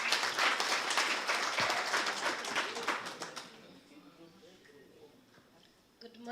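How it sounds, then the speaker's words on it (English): An audience at a youth accountability charter convention applauds a group presentation, a dense burst of clapping that fades over about three seconds into quiet room noise with a voice speaking. "Please give a round of applause to group 3"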